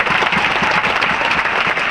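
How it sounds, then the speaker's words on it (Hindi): Loud, dense applause from a crowd before a stage at a political team gathering, a continuous roar of clapping lasting two seconds without speech. "एक बार इनके लिए जोरदार ताली बजाइए।"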